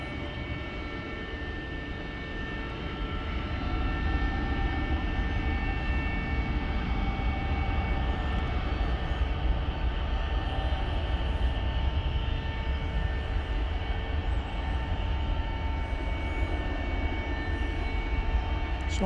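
Jet airliner passing at Dallas Fort Worth airport, a steady distant engine roar with a constant droning hum that swells slightly and holds, no talking.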